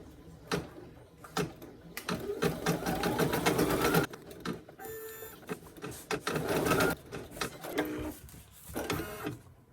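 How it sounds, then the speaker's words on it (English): A computerized embroidery machine stitches small snap-placement circles that tack felt down, running in rapid mechanical bursts with brief pauses between passes, close and fairly loud. "Step 2 is going to be stitching the little circles that are going to be the placement for your snaps"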